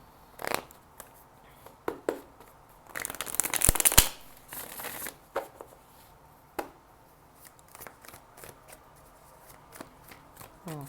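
Tarot cards being shuffled by hand in bursts of crisp riffling and flicking, with a louder dense run of shuffling midway and scattered single card taps, close and clear with no talk.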